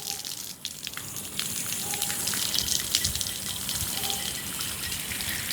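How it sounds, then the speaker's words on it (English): Water running down a copper lotus rain chain hung from a gutter downspout, a steady splashing and trickling with scattered drips, fairly close and continuous. "You see how that runs down the chain like that?"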